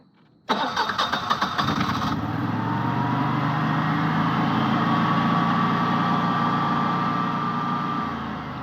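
A pump in a manometer pressure test setup switches on with an abrupt start, rattles briefly, then settles into a steady, fairly loud hum with a faint whine that eases off near the end.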